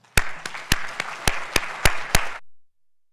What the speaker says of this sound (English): I wonder if you'd just join me in giving her a round of applause.